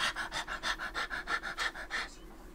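Hunting dog panting in The Hunter: Call of the Wild video game, a fast, even rhythm of about a dozen breathy huffs that sound close and clear with no talking, fading slightly at the end.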